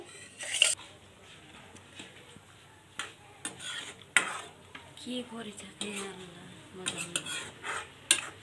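Pasta being stirred and cooked in a pan: intermittent metallic scrapes, taps and clinks of a utensil against the pan, uneven in rhythm, over a quiet background with faint sizzling.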